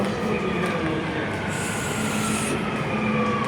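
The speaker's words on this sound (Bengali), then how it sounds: "ট্রেন চলে আসছে। এই যে ট্রেন।" A metro train arriving at a station, with a steady loud rumble of wheels on rails and a brief high brake squeal partway through, heard alone without talk.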